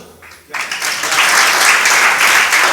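After half a second of near quiet, a congregation at a Padma Purana sermon in Chhipitola, Agra, bursts into loud, sustained clapping that holds steady to the end.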